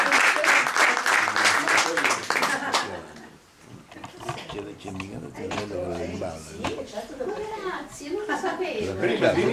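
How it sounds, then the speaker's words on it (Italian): A crowd at an award ceremony in Rome breaks into loud, dense applause for about three seconds, then it fades and someone speaks over a lingering murmur. "le voglio un altro applauso"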